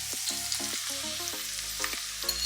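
Scrambled eggs cooking in a frying pan give a steady, close sizzle, with faint scraping and stirring and no voice.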